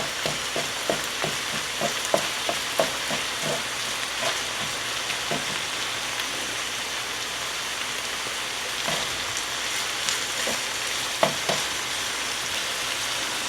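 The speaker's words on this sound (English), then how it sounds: "I'm just going to let this cook a little bit in the bottom of the hot pan" Ground beef frying in the rendered fat at the bottom of a very hot pan for Thai beef curry with green beans, a steady close sizzle broken by quick crackling pops, no voices.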